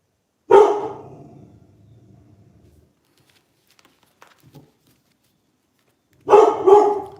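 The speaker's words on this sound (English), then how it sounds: "What are you barking at? There's nothing out there." A dog barks loudly nearby, one sharp bark ringing out, then a quiet gap with faint shuffling, followed by a doubled bark.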